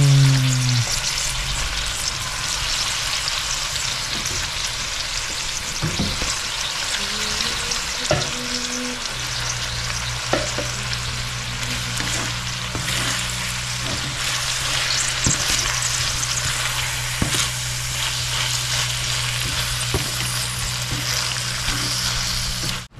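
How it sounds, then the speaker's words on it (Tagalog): Meat sizzles steadily in a hot pan with tomatoes, loud and continuous frying, with occasional clinks and scrapes of a spoon stirring. "Lalagay na po natin yung ating karne."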